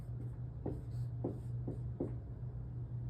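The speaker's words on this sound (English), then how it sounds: "I can write that here." Pen or chalk strokes writing a word during a music theory lesson, four or five short scratchy strokes spaced across a few seconds over a steady low hum, with no talking.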